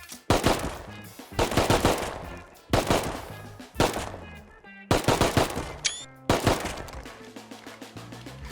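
Gunfire in the survival video game Rust: rapid bursts of loud, close shots in clusters, some automatic volleys, with brief pauses between bursts and a faint electronic chime partway through.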